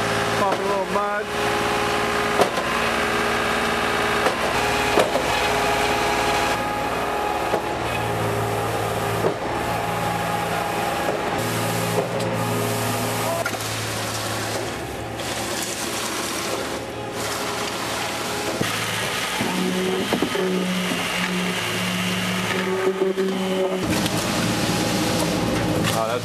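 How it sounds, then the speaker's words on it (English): Cement truck and concrete pump running steadily at a residential construction site, a continuous loud engine drone with mechanical whine and hum lasting throughout. "the fun begins when the cement truck and pumpers show up"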